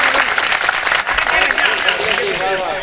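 Crowd applause at a Hindi comedy poetry gathering (hasya kavi sammelan), loud and dense clapping from many hands that continues while a voice talks over it.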